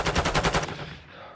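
Rapid automatic gunfire in Modern Warfare 2 multiplayer: a burst of about seven evenly spaced loud shots over half a second, then a ringing tail that fades out.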